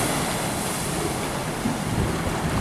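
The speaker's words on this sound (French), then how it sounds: "C'est toutes les plus grosses vagues, c'est tous les 3 vagues" Big ocean waves surging and crashing against rocks off the Santana islet coast near Sao Tome, a steady loud roar of surf mixed with heavy wind buffeting the microphone.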